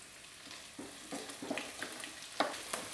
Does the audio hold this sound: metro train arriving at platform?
no